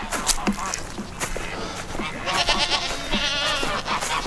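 Loud, repeated goose honks, close by and insistent, with some farmyard noise around them.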